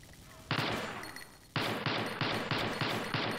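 Gunfire in a first-person shooter video game: one long automatic burst, then a run of five short, evenly spaced loud bursts, close and dominant.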